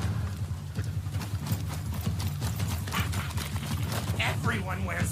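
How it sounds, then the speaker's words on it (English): Horse hooves clip-clop at a gallop in a video game trailer featuring Nazgul riders, rhythmic and steady beneath loud music and talk, with a brief whinny near the end. "Freaking Nazgul over there riding some horses"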